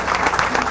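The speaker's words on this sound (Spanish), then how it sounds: "Vamos a darle un aplauso." Crowd applause at an outdoor government land-title handover event in Guárico, Venezuela, a brief burst of steady, dense clapping from a large gathering.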